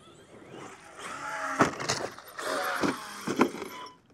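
An RC monster truck with a broken front drivetrain grinds and clatters as it drives, several loud knocking and ratcheting bursts standing out over a continuous motor whine, fairly close and without speech.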